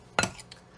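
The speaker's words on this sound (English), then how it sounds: "You just crisscross the knives back and forth through the larger pieces of the Crisco or shortening" Two metal knives crisscross through shortening and flour in a bowl for baking powder biscuits, giving two sharp scraping clinks about half a second apart with quiet between them.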